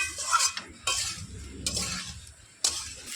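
Spices stirred and fried in a pan for jujube pickle, with repeated scraping and clinking strokes of a spoon against metal over a soft sizzle, close and clear, arriving in short bursts with brief pauses between.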